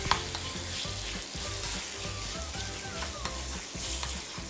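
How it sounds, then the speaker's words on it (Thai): Pork belly stir-fried with salt and a garlic-coriander-pepper paste in a field kitchen sizzles loudly and continuously, with repeated scraping and stirring strokes of a spatula in the pan and no talking. "แล้วก็ให้เราผัดหมู3ชั้นกับ3เกลือให้เข้ากันนะครับผัดให้หมูของเราสุกเนื้อตึงๆพอประมาณนะครับ"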